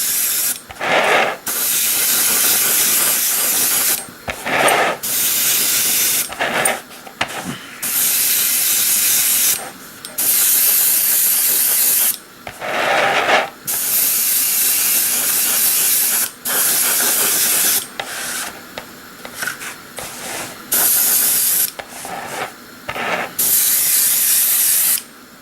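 An aerosol can applies fine coats of paint to a plastic model in short, repeated bursts: loud, close hissing sprays, each a few seconds long, separated by brief pauses.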